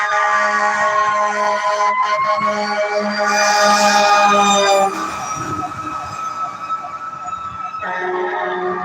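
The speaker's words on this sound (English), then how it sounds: "And I hear some sirens. It may be fire trucks" Dalton Fire Department fire truck sirens wail loudly and close by near a bridge, rising and falling tones over a heavy engine rumble, then shifting as the trucks pass.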